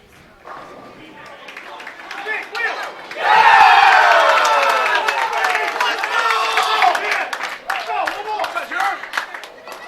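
A bowling crowd erupts in loud cheers, shouts and clapping after a strike in a college tournament match, swelling suddenly and staying raucous for several seconds before easing slightly.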